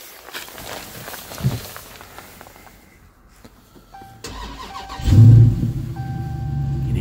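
A 2019 Dodge Charger Scat Pack with a 392 V8 starts up after a door thud and chimes, firing into a loud, deep rumble that settles to a steady idle close by.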